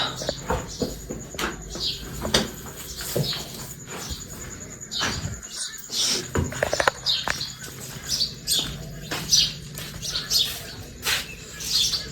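Small birds chirp repeatedly in short, high tweets, some close and loud, others farther off, with a soft background murmur.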